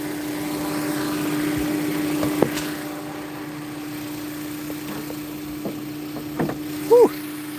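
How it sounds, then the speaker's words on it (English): A 2004 Honda S2000 engine idles with a steady, even hum holding one pitch, moderately loud, with a few small clicks and a brief voice near the end. "So you can hear the engine"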